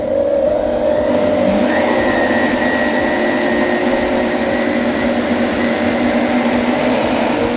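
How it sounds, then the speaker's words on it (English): A high-speed blender runs steadily on a liquid mix of milk and rice for a rice gelato base, its loud continuous motor whine rising in pitch partway through and holding without pause. "we put the liquid with the milk and the rice into the high split blender in order to make it as creamy as possible."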